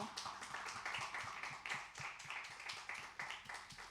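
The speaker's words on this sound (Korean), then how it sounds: "우리 서로를 위해서 함께 박수로." A church young adults' congregation claps together, a rhythmic run of sharp, distinct hand claps with a steady beat and a softer crowd wash underneath, moderately loud and continuous for a few seconds.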